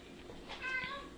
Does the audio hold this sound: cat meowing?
yes